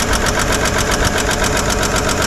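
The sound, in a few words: 1955 Chevy engine idling, noisy bottom end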